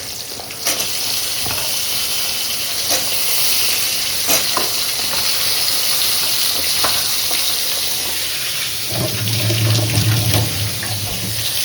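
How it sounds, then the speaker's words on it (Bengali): Tap water runs steadily over puja utensils being washed in a sink, a continuous hiss with scattered clinks and knocks of metal, and splashing grows heavier near the end. No one speaks. "ঠাকুরের বাসন মাজবো"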